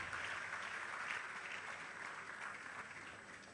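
Sustained audience applause for the eminent lecturer at a University of Benin lecture series, a steady dense wash of many hands clapping that stays fairly quiet and even throughout.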